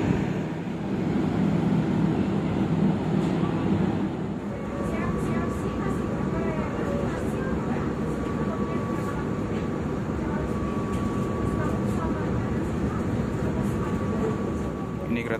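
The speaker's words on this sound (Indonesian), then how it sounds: "Ini kereta api Jayabaya meninggalkan stasiun Lawang." Jayabaya passenger train pulling out of Lawang station, a steady low rumble of wheels and carriages with a faint thin squeal running alongside, heard under continuous talk.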